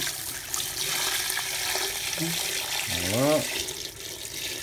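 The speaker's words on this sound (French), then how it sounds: "Ensuite on va couvrir d'eau." Tap water runs steadily into a pot holding chicken and a tea infuser of cloves, bay leaf and thyme for a chicken blanquette, a continuous close splashing flow, with a brief spoken word and some background voice.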